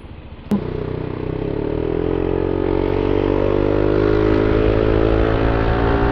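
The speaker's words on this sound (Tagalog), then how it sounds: "medyo maingay na yung pipe pero bagal pa rin yung takbo niya" A motorcycle fitted with a noisy JVT V3 exhaust pipe and 11g flyballs rides at a steady, loud drone, with a sharp clack at the start and a constant engine tone sustained throughout.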